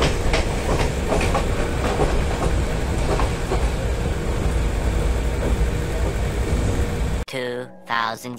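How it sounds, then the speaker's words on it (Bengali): Passenger train pulling out at night from a station on the Dhaka to Cox's Bazar route, a dense steady rumble of wheels and carriage noise at close range with scattered voices, then breaking off abruptly near the end into quieter bursts. "আমাদের ট্রেন এখন ছাড়বে কক্সবাজারের উদ্দেশ্যে"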